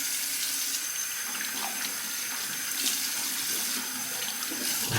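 Water runs from a tap and is splashed onto a face before a shave, a continuous hissing rush with intermittent louder splashes, close and unaccompanied by speech.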